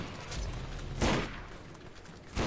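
Gunfire from Krom's turret in the Borderlands video game: a loud broadband burst near the one-second mark over a steady rumbling game backdrop, with another sharp blast at the very end.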